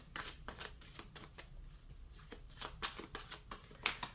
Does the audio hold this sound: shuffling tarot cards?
yes